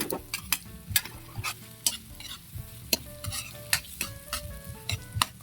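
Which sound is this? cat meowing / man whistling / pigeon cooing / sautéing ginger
sautéing ginger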